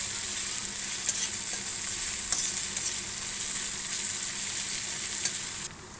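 Chopped onion, garlic and ginger fry in oil in a pan for an egg and soybean curry, a steady close sizzle with occasional stirring scrapes and no talking.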